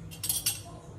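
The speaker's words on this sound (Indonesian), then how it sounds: "Jadi ini gelas-gelas dulu kita menyimpan, sendok-sendok, piring-piring ini" Glasses, spoons and plates being put away produce a few light clinks and clatters, faint and brief, over a quiet room hum.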